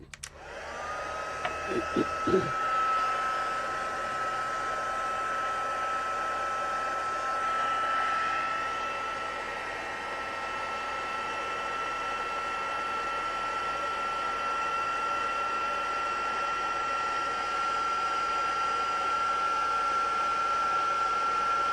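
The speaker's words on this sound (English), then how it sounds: "let's grab our heat tool. So I'll just have to warm it up a little bit" A handheld heat tool blows hot air over a stamped easel card, starting with a few clicks and handling taps, then settling into a steady, loud whooshing drone that runs uninterrupted to the end.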